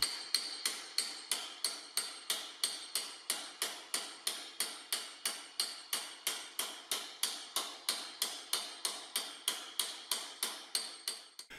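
Steady, evenly spaced metallic taps of a planishing (smoothing) hammer with soft blows on sheet metal, light and bright, continuing for several seconds without talk.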